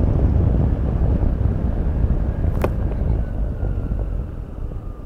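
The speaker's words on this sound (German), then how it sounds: "Ja, wir haben sehr starke Verwirbelung durchs Windschild hier." Strong wind turbulence roars through the windscreen of a Piaggio Beverly 400 S scooter (2021) while riding, a loud, constant rushing buffet with a brief sharp click midway.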